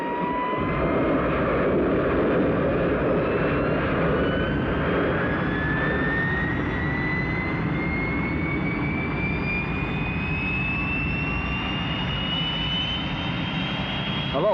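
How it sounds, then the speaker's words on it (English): Aircraft taking off in a Captain Scarlet launch scene, a loud sustained jet-engine roar with a whine rising steadily in pitch as it climbs, continuous throughout. "I'm standing by for takeoff."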